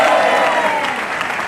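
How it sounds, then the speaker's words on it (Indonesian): Studio audience applause on a TV talk show, a loud, dense and even burst of many people clapping that fades slightly toward the end. "Tepuk tangan sekali lagi"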